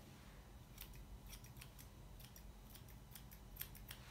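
Grooming scissors trim a Havanese dog's fur in a quick run of crisp, close snips, steady and alone over a soft background hiss.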